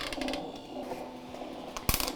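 A home ice cream maker starts churning a coffee Oreo ice cream base, a steady mechanical whir with a faint rattle running alone and close, ending in a sharp clack.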